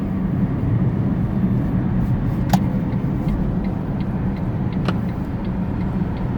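A 2013 Smart Electric Drive car in traffic gives a steady, loud hum of road and tyre noise from inside the cabin, with faint clicks and no talk.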